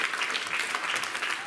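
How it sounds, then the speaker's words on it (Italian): A group of catechists receives applause, with brisk, dense clapping from a crowd heard close and steady throughout. "Allora io penserei che voi meritate un grande, grande applauso, fatevi un applauso."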